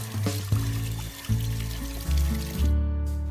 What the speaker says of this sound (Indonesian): berputar dengan cara menuangkan air di atas baling-baling kincir